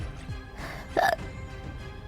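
A VTuber gives a sudden close hiccup with a sharp, brief vocal catch, then a second hiccup cut off at the end, over quiet background.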